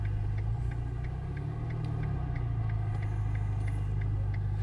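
Ferrari Portofino M idling with a low, steady exhaust burble in tight Paris streets, engine rumble continuous and close, with a faint regular ticking over it and no distinct valve snap.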